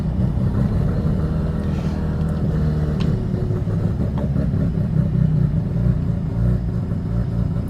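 A turbocharged car with a Lamik-tuned ZF 8HP automatic transmission pulls hard under load, its engine droning loud and steady from inside with a low rumbling roar and slight shifts in tone, no talking.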